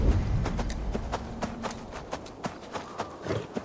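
Horse hooves clip-clopping in Assassin's Creed Valhalla, a brisk, steady run of sharp hoof strikes close by, with little else over them.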